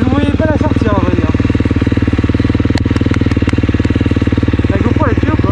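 A motorcycle engine idling loudly and close, a fast steady pulsing throb throughout, with a few sharp ticks midway and voices talking over it.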